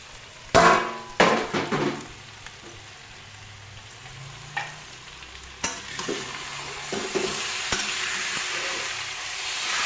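Jackfruit curry frying in a pan with loud spatula scrapes and knocks against the metal early on, then a steady close sizzle with occasional stirring scrapes.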